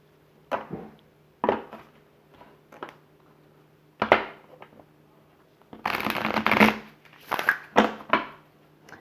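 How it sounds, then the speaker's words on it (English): Tarot cards being shuffled up close, several short riffling bursts followed by a longer run of rapid flicking and a few final snaps, fairly quiet with no talking. "I'm going to pull another card here."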